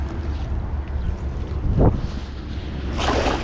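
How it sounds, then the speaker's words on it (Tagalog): Wind gusts across an open fishing spot at the water's edge, making a steady, loud rumbling roar against the microphone, with a brief thump partway through and a rising gust toward the end. "Medyo mahangin po kasi. May hangin konti."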